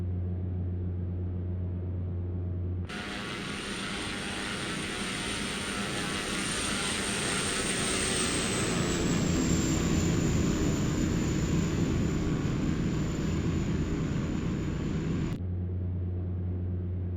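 Propeller engine of a Cessna Super Cargomaster in X-Plane 11, climbing after takeoff over Alaskan bush country: a steady, loud droning hum with a sustained high whine that dips slightly partway through, cutting off abruptly at the end.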